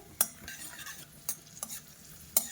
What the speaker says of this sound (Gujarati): 4 બદામ લીધેલી હતી, 5 કાજુ અને કિસમિસ થોડીક લીધેલી, તેને આપણે તળી લઈશું